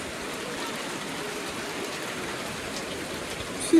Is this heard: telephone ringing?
no